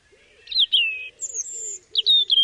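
A robin sings in a garden, a clear close solo of high thin warbled phrases broken by short pauses, loud against a quiet background.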